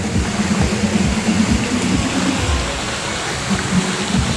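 A waterfall in Ratnagiri gives off steady, broadband rushing water, loud and continuous with a low rumbling churn underneath and no speech.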